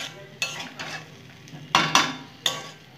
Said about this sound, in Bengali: ডালিয়া, মুগ ডাল আর উপর নিচ করে আমি সব কিছু করে দিচ্ছি সবজিগুলোর সাথে